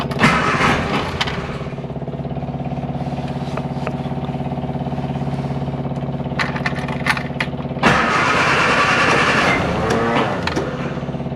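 A Classic Mini Clubman Estate engine cranks and runs roughly with a steady droning hum, then surges louder near the end as it catches and revs. The sound is close and continuous.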